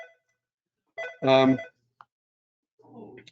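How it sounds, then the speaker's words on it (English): A mobile phone rings during a public meeting, a short loud burst of ringtone with brief quieter sounds around it in an otherwise quiet room. "my phone's going off, so as soon as it stops, that ringing will stop"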